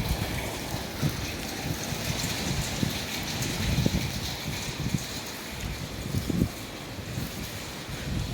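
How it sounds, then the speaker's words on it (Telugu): Rain falls in Kuwait, driven by gusting wind, as a steady broadband wash with soft low rumbles that swell now and then; no voices are heard. "పెరిగిపోతుందండి వర్షం అయితే స్పీడ్ అవుతుంది"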